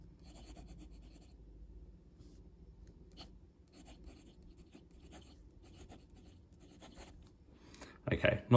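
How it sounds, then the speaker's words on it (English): A Kaweco Special fountain pen with a medium nib and Kaweco Blue cartridge ink writes on paper, a soft, close scratching in short irregular strokes and pauses, fairly quiet throughout, ending in a louder rustle. "We have this in a medium nib, and the ink is Kaweco Blue, just from a Kaweco Blue cartridge. So let's do the writing."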